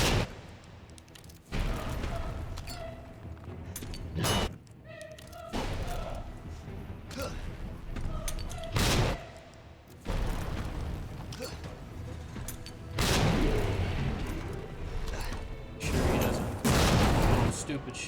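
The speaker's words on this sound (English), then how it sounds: "hit him with the nades" Grenade blasts in Resident Evil 2 Remake, Leon's campaign on Hardcore: about five loud, broad booms land every few seconds, each bursting over a steady bed of rumbling game noise.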